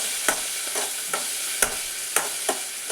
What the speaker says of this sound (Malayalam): നന്നായിട്ടൊന്ന് ഈ പച്ചമുളകൊക്കെ മാറി വരുന്നവരെ വഴറ്റിക്കൊണ്ടിരിക്കാം.